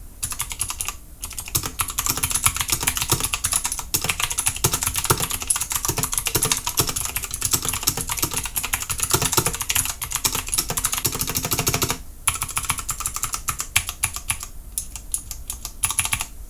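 Typing on an HK Gaming GK61 60% keyboard with Gateron Optical Blue switches gives rapid, continuous clicky keystrokes, close and crisp, with a couple of brief pauses and no talking.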